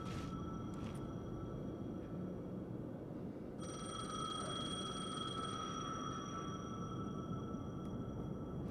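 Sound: payphone ringing in video game Alan Wake 2

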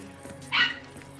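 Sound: dog barking

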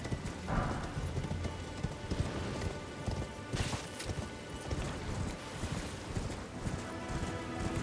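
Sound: horse hooves clip-clopping in video game Elden Ring

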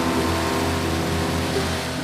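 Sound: sports car with sport exhaust

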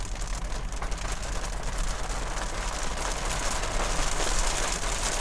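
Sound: rain falling

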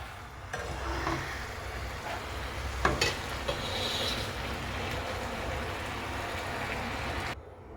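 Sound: stirring dough in a wok

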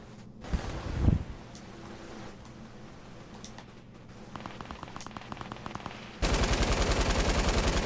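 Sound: gunfire in the video game Fortnite, shooting at trees

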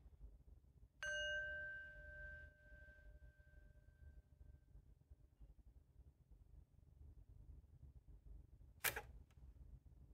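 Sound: bell ringing

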